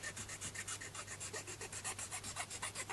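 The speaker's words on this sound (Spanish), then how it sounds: "tenemos que coger una limita y ir puliendo el material hasta conseguir" A small hand file rasps steadily back and forth on a tyre pressure sensor part from a Renault Megane, producing quick, regular, faint close strokes over a low hum.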